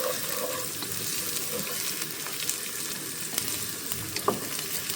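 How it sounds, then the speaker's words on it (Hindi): Garam masala and onions frying in a pan, a steady close crackling sizzle throughout with faint stirring clicks, no talking. "उसको भी हम इसके साथ अच्छे से भून लेते हैं"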